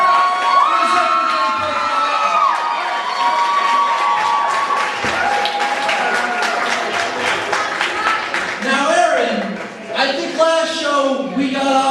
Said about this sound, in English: can we give Aaron Masterson a round of applause for his